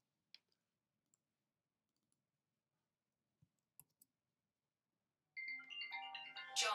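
Faint, sparse mouse clicks tick in a quiet room before a telephone ringtone bursts in, loud and tonal, and keeps ringing to the end.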